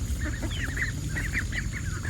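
A flock of chickens and ducks honking and clucking in repeated short calls over a steady low rumble of background noise.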